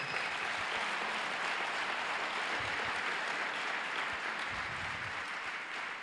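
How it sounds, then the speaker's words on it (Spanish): A church congregation claps steadily and thickly, a continuous wash of many hands at an even, fairly loud level throughout, with no voice standing out. "denle un fuerte aplauso a Dios por ello"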